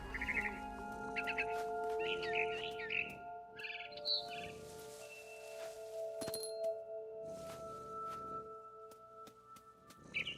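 Quick bursts of barn swallow chirping in a video game, Remains of Edith Finch, sound over sustained, synthetic-sounding musical tones, then fade to occasional faint chirps.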